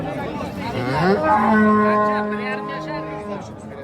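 A cow lets out a single drawn-out moo, loud and close, rising and then holding steady for a couple of seconds, at a livestock market in Kattakurgan, Uzbekistan.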